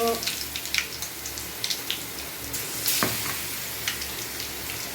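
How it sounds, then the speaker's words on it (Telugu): Garlic and ginger paste frying in a pan for a chicken curry, with a loud, continuous close sizzle and occasional stirring scrapes. "తెల్లగడ్డ పేస్టు అల్లం పేస్ట్ వేసుకొని దోరగా వేయించుకోవాలి."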